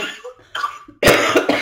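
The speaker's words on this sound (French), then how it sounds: "Moi aussi, je tousse, excuse-moi." Several sharp, loud coughs, a couple of short ones, then a heavy burst of harsh coughing close to the mic.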